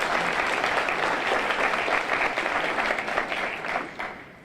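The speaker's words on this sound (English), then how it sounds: "So please give him a round of applause." Audience applause at a Saddleback High School gathering, dense crowd clapping that starts full and loud, then thins and tapers off toward the end.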